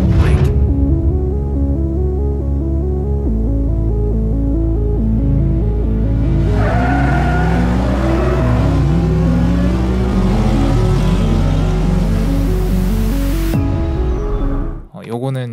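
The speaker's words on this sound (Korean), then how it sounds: "일부러 여기 이제 자동차 소리 넣고" A car driving and revving sound effect is layered into a modern, electronic music bed as part of a sound design edit, with engine sweeps rising midway, loud throughout until an abrupt cut near the end.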